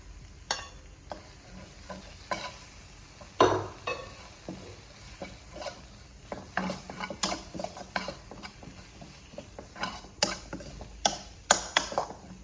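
Chicken bread koththu stirred in a frying pan, with close, irregular scraping and clanking strokes over a low sizzle, no voices.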